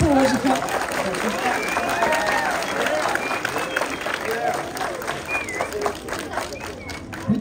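A graduation audience applauds at a send-off ceremony for a twelfth-grade class, a dense sustained clapping that continues at an even level, with voices and cheering mixed in and thinning slightly toward the end.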